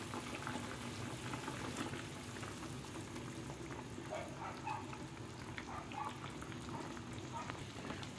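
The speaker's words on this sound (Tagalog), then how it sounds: "kumukulo na" Steady bubbling and gurgling of sauce boiling in a cooking pot for Filipino sarciadong isda, continuous and moderately close, with small pops throughout.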